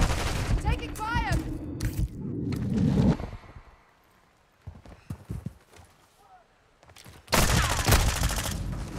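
Gunfire in a Call of Duty match comes as a loud, dense burst of rapid shots near the end. Game voices and effects come before it, then a quieter stretch with scattered sounds.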